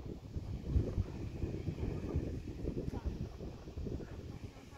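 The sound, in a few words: strong wind at Winnipeg Beach, Manitoba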